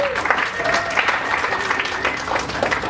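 Comedy club audience applauding, a lively burst of clapping from a packed room that carries on steadily for a few seconds, with a few voices mixed into the crowd noise.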